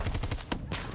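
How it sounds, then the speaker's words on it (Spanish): Rapid gunfire in the video game Battlefield 2042, a fast burst of repeated shots followed by a couple of heavier reports, loud and continuous across the second with no talk. "Me ha venido del cielo el disparo"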